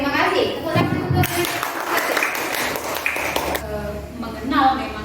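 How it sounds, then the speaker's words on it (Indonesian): Audience applause at a high school student council candidates' debate: a burst of clapping of a few seconds in a room, with voices talking before and after it. "Tepuk tangan untuk"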